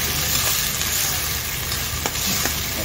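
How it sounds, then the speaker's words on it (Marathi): Tomatoes fry in a pan with a steady, even sizzle throughout, and a couple of faint stirring scrapes rise above it. No one speaks. "टोमॅटो टाकूया। टोमॅटो थोडा शिजून घेऊया आपण व्यवस्थित।"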